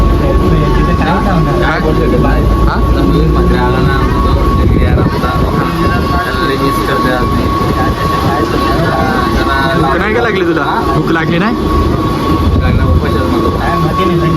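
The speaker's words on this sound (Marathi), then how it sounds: "ट्रेन चालू झालेली" A moving train in Mumbai rumbles steadily throughout, with a constant rattle and a faint tonal hum; people talk close by over the train noise.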